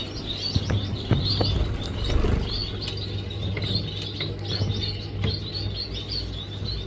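Gouldian finches in a coop chirp busily with high, rapid tweets overlapping throughout, alongside occasional clicks and light rustling and a low steady hum.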